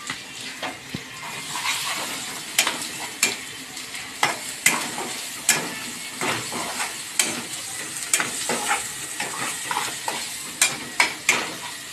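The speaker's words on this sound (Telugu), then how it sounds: "ఇలా ఆయిల్ పక్కకు వచ్చేంత వరకు ఫ్రై చేసుకోవాలి." Masala for stuffed eggplant curry frying in oil, a steady close sizzle broken by rhythmic scraping and stirring strokes of a spoon in the pan, with no voices.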